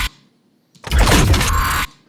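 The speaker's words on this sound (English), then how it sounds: "Very glitchy and sporadic" Glitchy, jumbled layered sound effects for a Lamborghini Revuelto cinematic: a short sharp hit, a brief gap, then a loud dense crackling burst of broken, sporadic noise lasting about a second.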